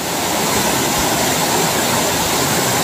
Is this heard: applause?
no